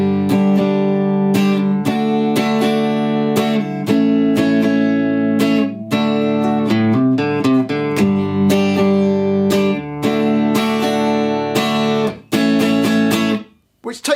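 An acoustic guitar strums the bridge of a song in a steady rhythm, ringing chords changing every few beats, played close and loud without any voice.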